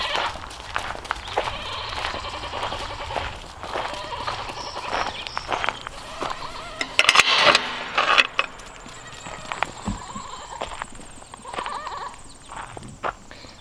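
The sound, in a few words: goat bleating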